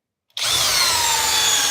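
A Kobalt cordless power drill spins up sharply in drill mode at speed 2 and runs loud and steady with a high whine close by, with no talking.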